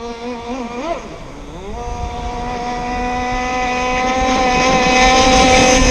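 A radio-controlled boat's small motor whines steadily and loud as the boat runs through a wide turn, its pitch wavering early and then climbing and holding as the motor revs up.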